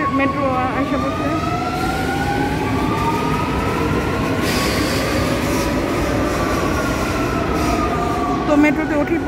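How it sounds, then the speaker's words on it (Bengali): Metro train arriving at an underground station, a steady loud rumble with rising and falling whine tones and a brief high squeal, continuous throughout. "আমাদের মেট্রো আসা বসে।"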